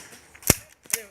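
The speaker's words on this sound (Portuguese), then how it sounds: "Tiro do caramba, João." Two sharp airsoft gun shots crack out close by about half a second apart during an outdoor airsoft team game.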